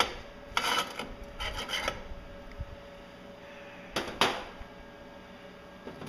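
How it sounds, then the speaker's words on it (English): A workpiece being scraped on a bench grinder setup, with several short rasping scrape strokes in two bursts, close and fairly loud over a quiet background hum. "Give her a little scraping here."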